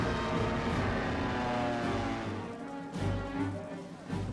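Stuka dive bombers and medium bombers in flight during the invasion of Poland, a steady loud droning engine roar with low rumbling tones that swells and surges toward the end, no voices.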